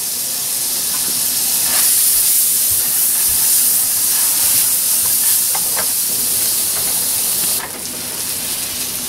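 Margarine in a heated frying pan gives a loud, continuous hiss and sizzle at close range, with a few brief crackling bursts and a slight drop in intensity near the end.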